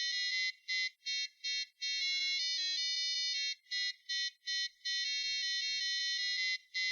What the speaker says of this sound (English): All on one buzzer this is.